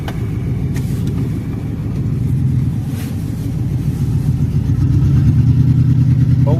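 Truck engine idles and strains steadily at low pitch, close by and fairly loud, with a rising rumble near the end as it struggles to move in reverse while running low on fuel.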